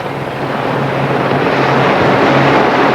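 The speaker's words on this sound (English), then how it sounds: "large helicopters of the Fleet Air Arm are the Sea Kings. They're being followed by the Lynx." Steady, loud rotor and engine roar from Fleet Air Arm Sea King and Lynx helicopters passing in a mass flypast at RNAS Yeovilton, 1991, with a broad rushing wash and a low throbbing hum throughout.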